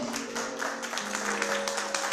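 A church congregation applauds at a worship service, a soft, continuous wash of clapping with sustained keyboard tones held underneath and no speech.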